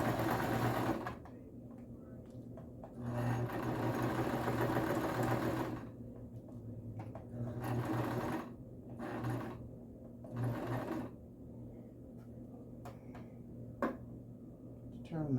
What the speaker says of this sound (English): Taking the pins out as I go.